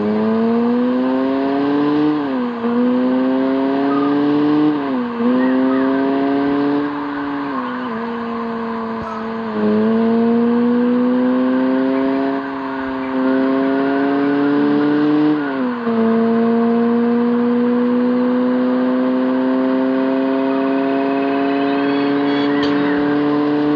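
Simulated car engine in the Car Parking Multiplayer game, revving steadily and climbing through the gears, pitch dropping sharply at each shift before rising again, loud and continuous with no voices.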